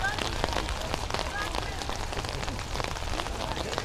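Rain falls steadily through a high school football game, a dense hiss of drops with crowd and field noise underneath, filling the whole stretch at a constant level.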